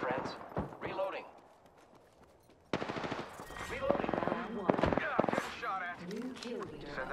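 Rapid bursts of gunfire in the video game Apex Legends, loud clattering volleys that start abruptly and continue through the rest of the clip, with someone talking over them and between shots.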